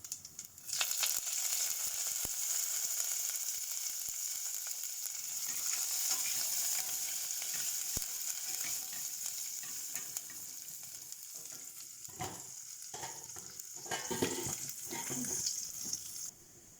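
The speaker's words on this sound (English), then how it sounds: "We'll add the hing, which is asafoetida, and then immediately add the curry leaves." Asafoetida and curry leaves sizzle in hot oil while cooking mixed dal, a steady loud crackle that starts abruptly and continues throughout, with scattered stirring and pan clatter toward the end and no voices.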